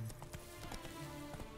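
The horse Roach gallops in a video game, a quick run of soft hoof clip-clops close by against low background sound, lasting under two seconds.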